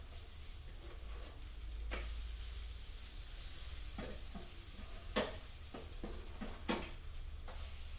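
Rösti potato cakes fry in a pan with a continuous soft sizzle, broken by a few sharp clacks and scrapes of a utensil against the pan; no one speaks.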